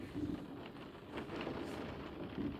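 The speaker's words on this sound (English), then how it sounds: "the rain's coming down harder" Rain falls steadily and hard during a thunderstorm, a dense, continuous hiss and patter with no voices.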